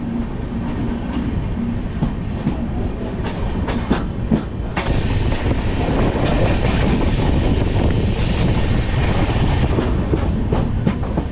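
The Chozhan superfast express (22675) runs on rails near Vaitheeswaran Koil in Tamil Nadu, slowing toward the next station. A steady, loud rumble of wheels and carriage fills the whole stretch, with rhythmic clickety-clack joints and occasional sharper knocks, and no talk.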